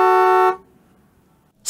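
A car horn gives one short, loud, steady honk lasting about half a second, followed by quiet and a brief noise at the end.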